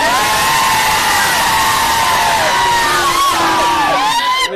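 A crowd at a bullock cart race roars with sustained cheering and long shouted yells from many voices, loud and continuous, rising and wavering over the whole stretch.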